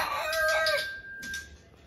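An Onagadori, a long-tailed ornamental chicken, crows once, loud and close, with a long drawn-out call that trails off, followed by faint background noise and no talk.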